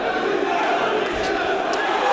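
Boxing crowd at a brawling fight night in Oldham, a dense, steady roar of cheering and shouting voices filling the hall at close range without a break.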